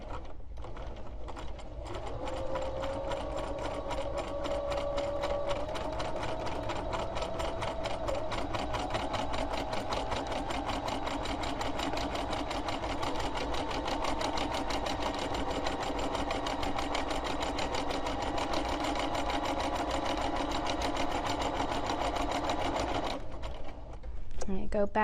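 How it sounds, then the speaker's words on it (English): A sewing machine stitches free-motion embroidery in a fast, steady mechanical hum and rapid needle clatter that runs continuously at close range before stopping near the end. "now I'm going to start stitching."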